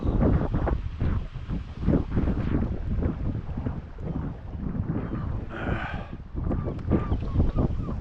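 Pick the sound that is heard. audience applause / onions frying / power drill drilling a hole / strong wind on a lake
strong wind on a lake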